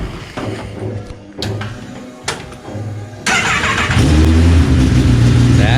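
A car engine cranks a few times in short bursts, then catches and revs loudly, settling into a strong running roar close by.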